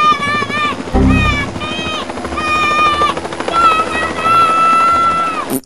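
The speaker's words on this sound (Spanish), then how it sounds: "¡Yo miro un helicóptero allá!" A helicopter's loud, steady drone runs through the whole stretch, with a deep rumbling burst near the start. High, wavering voices are heard over it.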